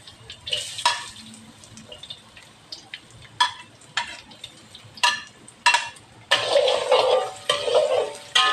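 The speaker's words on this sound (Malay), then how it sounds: "jom kita tumis. Masuk ni bawang putih," Garlic and onion stir-fried for bihun with squid, a bright sizzle that flares each time the spatula scrapes and clatters against the pan, ending in a loud sustained hiss, close up and without talk.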